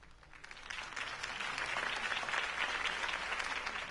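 Crowd applause rising and swelling after a campaign speech by Harvey Dent in the Telltale Batman video game, a dense steady clapping that builds over the first seconds and holds loud to the end.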